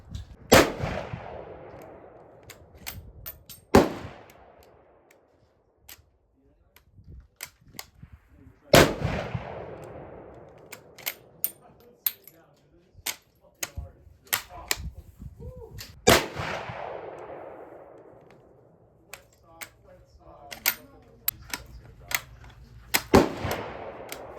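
A Carcano rifle fed from a 3D printed clip fires several loud, sharp reports, each with a long ringing decay, spaced a few seconds apart, with quieter mechanical clicks and handling noises between shots.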